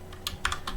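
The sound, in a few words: computer keyboard key presses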